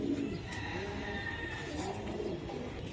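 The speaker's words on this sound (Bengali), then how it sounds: "হ্যাঁ, এগুলি উড়ানো কবুতর ভাই, উড়ানো কবুতর।" Flying pigeons coo softly in a short, continuous murmur, with faint background noise and no clear speech.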